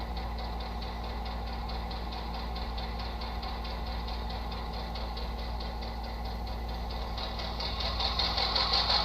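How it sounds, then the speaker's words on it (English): A model-railway sound decoder, a TCS WOW Sound Diesel 121 with 21-pin plug in an HO locomotive, plays a steady diesel engine idle through a small speaker, throbbing evenly and growing slightly louder near the end, with no talking. "This is a TCS Wow Sound Diesel 121, 21 pin."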